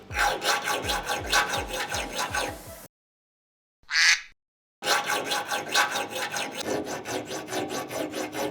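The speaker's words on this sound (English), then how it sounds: "the file cuts into it much easier, and it's making that lower pitch sound" A steel file rasps rhythmically across the guard of a Damascus bowie knife in quick repeated strokes, pauses briefly with one short sharp scrape, then resumes steady filing.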